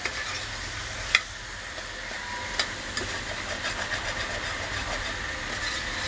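Capsicum curry is stirred in a pan, with soft sizzling and occasional sharp spoon clinks against the pan over a faint steady background, quiet and close with no voices.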